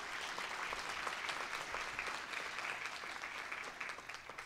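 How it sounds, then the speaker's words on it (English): Faint, steady audience applause at a 2020 state of the city address, a continuous patter of many hands clapping at some distance, fading slightly toward the end. "and another round of applause for Dr. Ed Madden."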